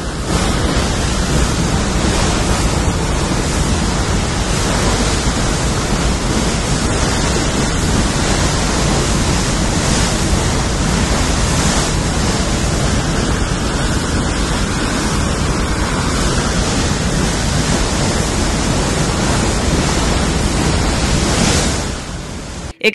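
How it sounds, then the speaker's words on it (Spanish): Mud, gas, water and crude oil gush from a well crater at the La Lizama oil field. A loud, steady, broadband rushing roar carries on unbroken for over twenty seconds, with no voices. "así se observa el nuevo orificio de donde se emana gran cantidad de lodo,"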